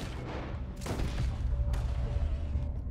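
Revolver and pistol gunfire in Red Dead Redemption 2 during a last stand against the world, several sharp shots cracking out in quick succession over a rumbling background.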